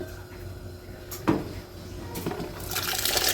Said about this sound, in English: So we're going to stir in our beans.